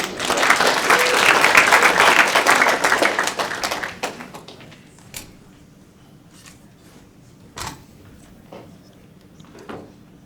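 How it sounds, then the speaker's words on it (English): Audience applause at a startup pitch night event in New York, loud and dense for about four seconds before thinning out into a few scattered claps, taps and thumps in a quieter room. "Big round of applause again."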